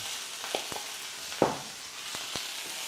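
Ginger and a teaspoon of minced garlic fry in a very hot oiled pan, a steady close sizzle broken by a few sharp stirring clicks and scrapes, with no voices.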